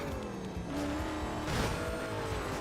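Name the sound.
supercharger whine of race car, video game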